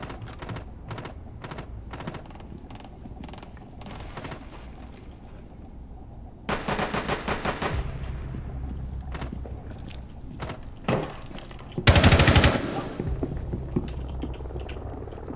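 Machine gun fire in a video game: scattered single clicking shots, then a rapid burst of automatic fire, followed by another dense, loud burst over a low rumbling background, with no talking.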